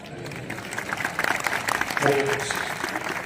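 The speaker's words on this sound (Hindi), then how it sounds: "जोरदार तालियों में प्रभु जी का धन्यवाद करें आप सब।" An audience at a Swaminarayan temple gathering in Pakistan claps in brief, moderately loud applause, with a voice briefly audible over it.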